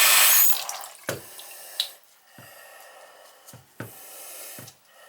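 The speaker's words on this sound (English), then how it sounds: "it makes a noise, so I put the cup there just so I don't have to hear that drip" Water from a leaking toilet dripping through a ceiling, irregular single drops landing with sharp plinks, about half a dozen spaced a second or so apart after a brief rush of water at the start, close and fairly quiet.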